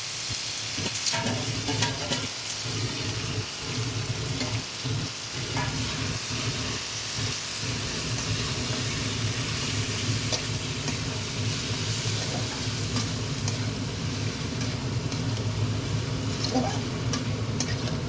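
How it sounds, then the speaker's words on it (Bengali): Capsicum and pasta fry in a pan with a loud, continuous sizzle and hiss. Stirring scrapes come through now and then over the steady frying noise. "ক্যাপসিকামটা ভাজা ভাজা হয়ে গেছে, পাস্তাটা দিয়ে দেবো"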